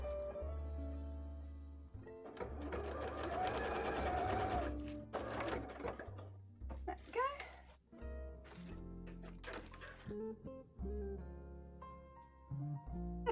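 A sewing machine restitches elastic on a bra, running in close bursts of rapid needle chatter that start and stop, mixed with handling noise and fabric rustling between runs.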